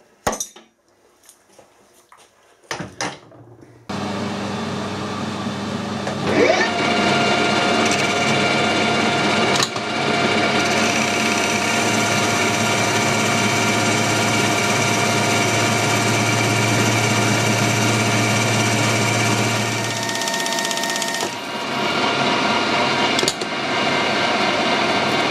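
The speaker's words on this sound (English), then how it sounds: "we can machine this face flat, down to diameter, bore out just enough width for what we need and then part it off" A lathe machines the face of an aluminium workpiece flat, starting after a few clunks and handling knocks, then a loud steady motor whine with cutting noise for about fifteen seconds before spinning down, followed by more knocks.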